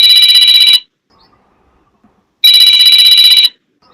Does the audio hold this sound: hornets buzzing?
no